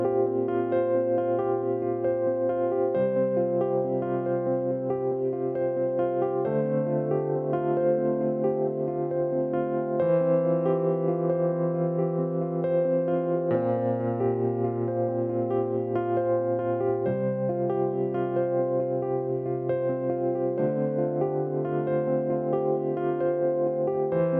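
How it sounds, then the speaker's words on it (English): An electric piano plays the keyboard part of a worship song: sustained, mellow chords shift every few seconds in a steady, even interlude, with no voices. "It's at this point where the electric piano that you found on the internet somewhere legally makes its debut"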